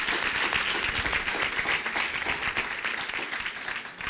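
Church congregation applauding during an apostle's sermon, a dense, sustained burst of many hands clapping that fills the room evenly, loud and continuous with no voices over it.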